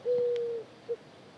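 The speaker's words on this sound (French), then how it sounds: "Ça roucoule, c'est la saison des amours pour les oiseaux." A dove coos during mating season: one long, clear, steady coo followed by a short second note, close and distinct over a quiet outdoor background.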